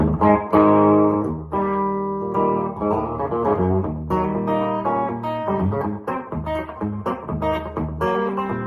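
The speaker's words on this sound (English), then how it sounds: "It's like a reverb, I swear." Electric guitar played through a Nobels mini effects pedal, notes ringing out with a lingering, reverb-like wash as chords and single lines trail into each other.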